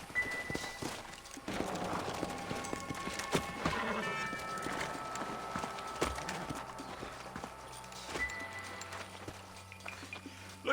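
Horse hooves clip-clopping in the Red Dead Redemption video game, an irregular run of close hoofbeats mixed with tonal game sounds and occasional louder thuds.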